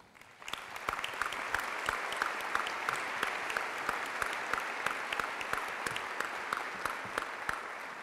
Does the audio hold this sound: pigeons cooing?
no